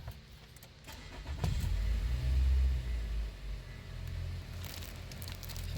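A 2024 Nissan Altima with a freshly replaced alternator and refitted belt cranks and starts, then settles into a steady low idle hum, close by.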